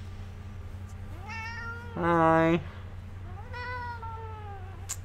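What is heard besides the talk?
cat meowing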